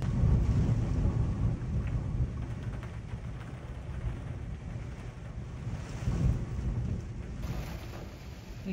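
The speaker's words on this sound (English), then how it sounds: "the rain is really nasty right now" Heavy rain and gusting wind roar outdoors on a sheep farm, a dense continuous wash with wind buffeting the microphone and swelling surges, no voices.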